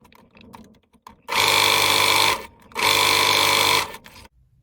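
A sewing machine stitching along the edge of fabric for a face mask, two loud steady whirring bursts of about a second each, with small handling clicks before and between.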